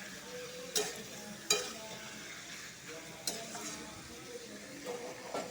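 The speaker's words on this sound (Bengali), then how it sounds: "লেবু দিয়ে চিকেনটা মেখে রেখেছি এটা ঢেলে দিব" Lemon-marinated chicken sizzles in a pan, a quiet steady frying hiss punctuated by a few sharp clinks and scrapes of stirring, close but low in level, with no talk.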